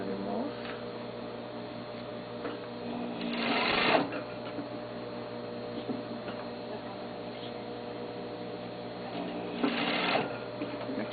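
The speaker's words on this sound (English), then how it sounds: "Make sure the machine will not pull the seam allowances to one side." Sewing machine stitching a sleeve seam, a steady close mechanical whir with ticking needle strokes and two brief louder bursts.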